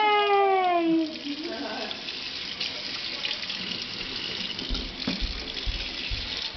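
Water pours from a tap into a sink as a small child washes her hands, a steady close rush with light splashes; a voice sings a falling melodic phrase at the start.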